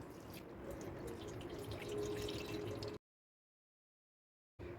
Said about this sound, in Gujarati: હવે આપણે તેની ઉપર થોડું ઠંડુ પાણી ઉમેરીશું